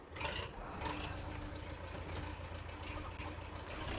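A tractor engine in Farming Simulator 25 hums at a steady low idle, a constant droning rumble with a faint whining tone running through it and no noticeable revving.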